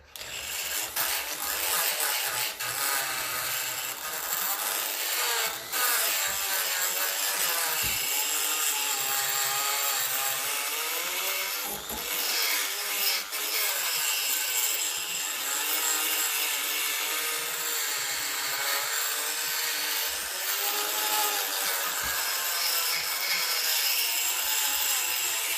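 A round file rasping against a brake part from a 1954 Ferguson 20 TEF diesel tractor, with close, continuous scraping strokes in a steady back-and-forth rhythm that carry on without pause.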